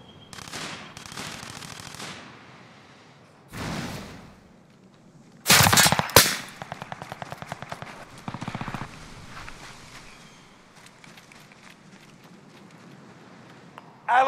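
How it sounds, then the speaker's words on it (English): Video game gunfire: bursts of rapid automatic shots and a few heavy blasts, loud and close, separated by quieter stretches with rattling footsteps-like taps and a voice heard briefly. "Stop shooting at me."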